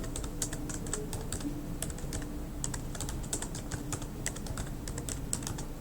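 Steady typing on a computer keyboard, with quick irregular key clicks and taps close up and continuous throughout, with no voices.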